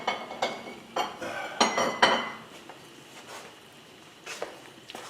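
A serving dish is set down and handled alongside a mushroom, green bean and tomato cream sauce: several close, bright clinks and knocks of crockery and cutlery in irregular bursts, then quieter taps, with no talking.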